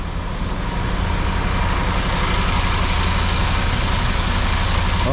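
A Yellow Star coach bus with a MAN engine idles at Tun Aminah terminal, a steady, loud low diesel rumble that holds constant throughout with no pauses.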